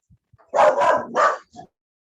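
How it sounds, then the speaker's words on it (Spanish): Dogs on a poultry farm let out a quick burst of excited barks close by, two or three loud overlapping woofs followed by a short yip, then quiet. "aquí estos perros que emocionan cuando ven a alguien"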